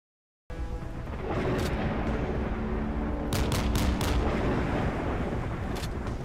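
Heavy naval cannon fire in the game Modern Warships booms in a rapid cluster of sharp blasts over a loud, continuous rumbling background, sounding like a battle in a game.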